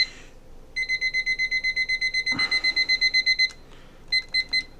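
A digital timer beeps in a fast, even series of about twenty short electronic pulses, pauses, then gives a few more beeps, close and clear; the timer beeps once per minute elapsed.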